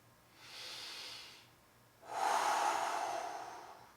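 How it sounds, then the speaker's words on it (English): One deep breath during an exercise workout: a soft airy inhale, a pause, then a louder, longer rushing exhale, close and alone. "Nice big inhale, exhales"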